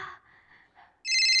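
A phone call rings out, its bright electronic ringtone bursting in loudly and steadily after a moment of quiet, faint murmurs and a dull tone before it.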